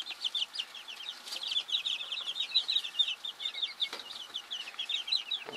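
Chickens in a coop cluck and chirp in quick, busy chatter, many birds calling over one another at a moderate distance, fairly quiet and continuous with no talking.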